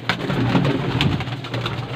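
Pigeons coo close by at a breeder's loft in Faisalabad, a low throaty murmur running steadily through the clip with a faint engine hum underneath.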